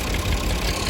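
A tractor hauling a loaded trailer idles nearby, a dense, continuous low rumble with a rough mechanical chug and no voices over it.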